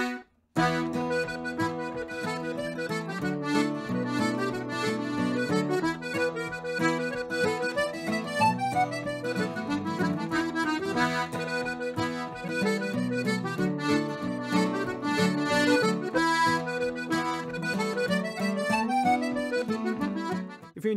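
Guitar and accordion play the first part of Cooley's Reel at a slow tempo, a continuous stream of melody notes over strummed chords, steady and moderately loud with no talking.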